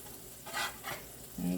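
Slices of bread soaked in egg and milk batter fry in a pan like pancakes, giving a soft, faint sizzle with a couple of brief scraping bursts and a short low hum near the end.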